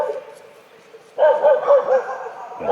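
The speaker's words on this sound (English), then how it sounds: "There's a lot of dogs here." Several dogs barking in short yips, four quick barks in a row at moderate distance, outdoors in an orange grove, with someone talking nearby.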